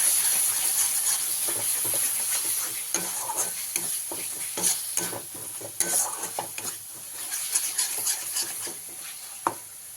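A whisked spice paste fries in a hot pan for an egg curry, giving a steady loud sizzle and hiss. Repeated scraping stir strokes run over it, with occasional sharper clacks of the utensil, close up and with no talking.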